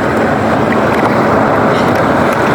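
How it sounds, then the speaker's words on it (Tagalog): Strong wind and big waves batter a small boat at sea, a loud, continuous roar of wind buffeting and rushing water close to the microphone. "Hindi kaya kapag ka malakas yung hangin talaga. Yung alon, malalaki."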